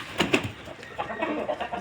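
A fighting rooster kept by a Turkish breeder clucks in a few short, close bursts, with a quieter low murmur of calls trailing after.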